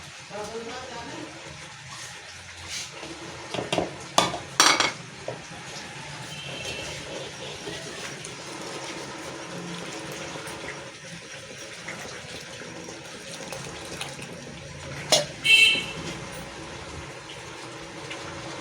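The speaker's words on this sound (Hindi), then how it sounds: "तो इसे पानी डालते हैं और गाढ़ा करते हैं।" Water is poured into a flour mixture and stirred to thicken a chicken nihari stew, a steady liquid gush and sloshing with a few louder stirring knocks, while a voice talks over it.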